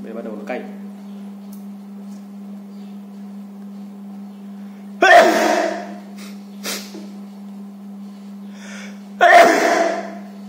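A person with sinusitis sneezing after using nasal drops: two loud, sharp sneezes a few seconds apart, with softer breathy snorts between them, over a steady low hum.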